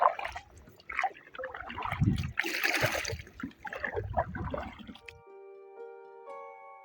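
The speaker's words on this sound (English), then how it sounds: "However, we tried our hands at kayaking." Kayak paddling on the Umakhoi river among the hills of Meghalaya: close, irregular water splashes, drips and trickles for several seconds, ending in a short run of steady tonal notes.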